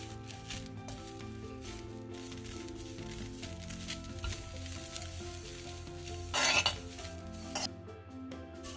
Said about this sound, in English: These have to be dry roasted. See that you will be stirring continuously so that it doesn't get burnt.